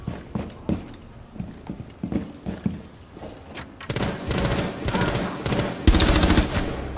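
Rainbow Six Siege gunfire: scattered single shots at first, then sustained loud automatic bursts of rapid rhythmic fire close by.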